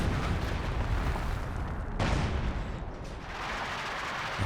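A howitzer artillery barrage in Company of Heroes, a sustained dense roar of overlapping booms and explosions with a sharp fresh blast midway, loud and continuous throughout.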